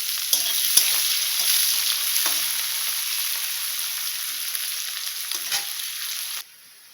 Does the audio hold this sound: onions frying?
yes